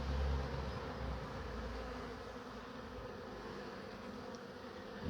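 Worker honeybees fanning and buzzing inside a hive being smoked during an inspection, a dense steady hum close by and fairly faint, with no talk.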